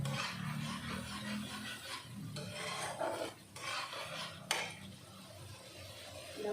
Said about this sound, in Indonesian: cengkeh, kulit manis. Kita tumis sampai harum dan matang